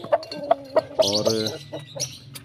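Several good-breed roosters and chickens kept together in a coop cluck and call in short bursts, with a louder drawn-out crow-like squawk near the middle, close and clear with no talk.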